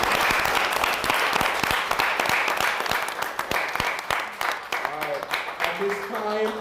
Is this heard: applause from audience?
yes